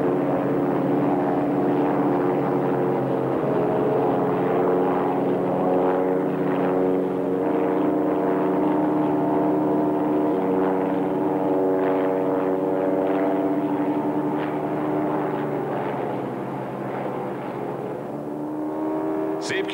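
A propeller airplane drones steadily with a loud, layered engine hum that holds throughout and fades slightly near the end.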